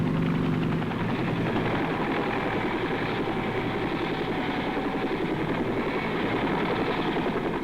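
Military helicopters of an American Air Cavalry division in Vietnam drone with a steady, dense rotor and engine roar that holds constant throughout, no voices over it.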